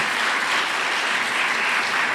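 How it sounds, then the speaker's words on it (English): Steady, full applause from a large audience at an evening showcase, a dense wash of clapping that stays loud throughout. "So a huge round of applause to her this evening."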